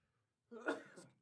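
A single short burst in a conversation, an explosive onset followed by a broad fading tail, heard fairly close, matching a sneeze though it could pass for a cough.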